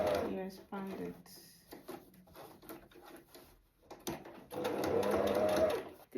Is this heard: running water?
no